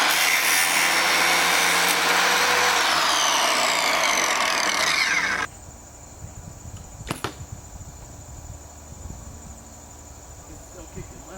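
A tool cuts an inch off an archery arrow shaft with a loud, steady, high-pitched whirring that stops abruptly after about five seconds, leaving quieter handling noise and a single sharp click.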